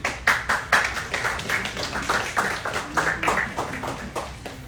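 An audience claps for a speaker being introduced at a mosque community meeting, a moderate group applause with steady rhythmic hand claps, fairly close and sustained, without talking.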